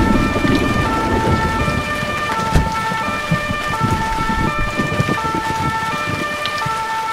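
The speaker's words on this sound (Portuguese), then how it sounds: "Olha aí, essa ambulância funciona" An ambulance siren in the Emergency 4 video game with the Barcelona mod cycles through a wailing two-tone pattern, loud and steady, over a rumbling, rain-like storm background.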